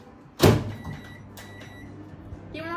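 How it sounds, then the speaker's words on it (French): A microwave door shuts in a home kitchen with one sharp, loud clunk, followed by a low steady hum and a faint tone near the end. "Et 2 minutes au micro-ondes."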